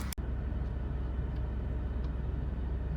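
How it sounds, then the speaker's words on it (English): A truck engine idles with a steady, low rumble that stays even throughout, marked only by a brief click near the start. "I just cranked the truck up"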